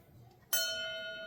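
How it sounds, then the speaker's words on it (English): A single memorial bell is struck once for lost submarines at a San Diego submarine veterans' meeting: a sudden clear clang that rings on with a sustained, slowly fading tone after a quiet lead-in. "Let's please strike a toll for the following boats."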